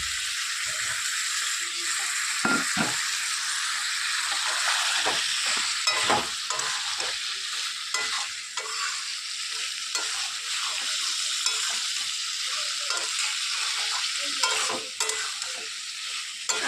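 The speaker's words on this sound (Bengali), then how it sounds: "এর মধ্যে এবার আমি আলুটা দিয়ে দেবো।" Potatoes frying with figs in a pan for a Bengali fig curry, with a loud continuous sizzle broken by frequent scraping and clattering strokes of a spatula stirring, close up and without voices.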